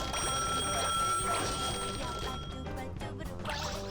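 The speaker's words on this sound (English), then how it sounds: "we're gonna have so much telephone ringing sound effects right now." Telephone ringing effects in the Katamari ReRoll video game, a bright bell-like trill running steadily over busy game music and clatter, moderately loud throughout.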